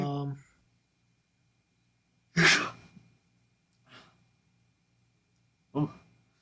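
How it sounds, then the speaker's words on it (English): A person sneezes once, sharply and loudly, after a short breath at the start, with a softer exhale and then another brief burst of breath following, all close to the microphone. "that was a sneeze."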